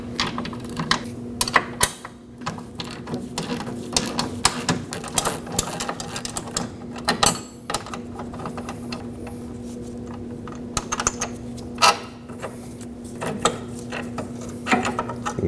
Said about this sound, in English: use a 17 socket and a 21 wrench to remove this one